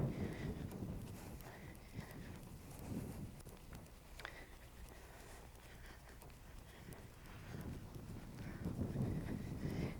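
Hooves of a ridden horse walking or trotting in a training session, a faint rhythmic clip-clop in the background that swells at the start and end, with no talking.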